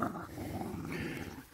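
A dog growls low and steadily for a moment, close by and fairly quiet, with no speech over it.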